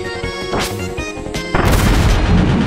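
A bomb explodes in Kirby's Return to Dreamland, a loud crash with a rumbling burst that cuts in over bright, tonal game music and lingers to the end.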